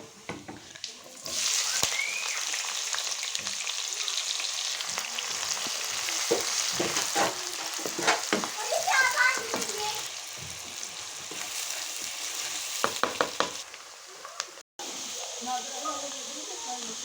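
Onions and cumin seeds frying in hot oil in a pan for fish curry, a continuous loud sizzle with stirring scrapes and clinks, someone speaking over the cooking.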